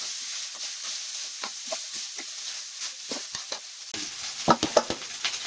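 Rice mixed with curry leaves is stirred in a pan, giving a run of soft, uneven spatula scrapes that turn sharper and louder near the end, with no speech.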